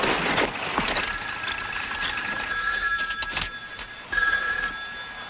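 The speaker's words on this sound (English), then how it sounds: "It stopped ringing, okay?" An old-style telephone bell rings in repeated loud bursts indoors, each ring trilling briefly and then pausing before the next; no one speaks over it.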